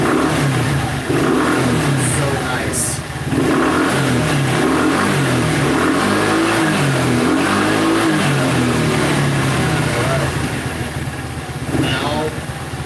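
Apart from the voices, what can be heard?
scooter engine revving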